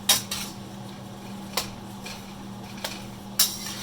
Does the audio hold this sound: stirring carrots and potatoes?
yes